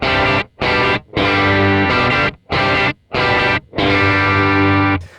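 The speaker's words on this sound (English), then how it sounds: "Alright, so now this is the profile that the Kemper has just made." A crunchy distorted electric guitar through a newly made Kemper amp profile plays a run of loud, chopped chords with short silent gaps between strums, close and dense, no voices.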